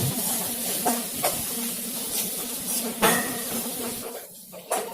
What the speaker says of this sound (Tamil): ஒரு 3 நிமிஷம் இந்த வெங்காயத்தை நல்லா எண்ணெயில வதக்கி எடுத்துக்கலாங்க